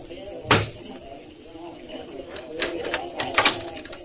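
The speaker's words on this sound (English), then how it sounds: "I knocked 3 times as prearranged." Three knocks on the door of a cold-water apartment on Willow Street, sounding as moderate, fairly close raps spaced across a few seconds within a quiet room.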